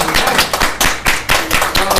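Church congregation clapping together at a Pentecostal Holiness Sunday service, loud rhythmic unison claps about four per second, close and strong with no talk.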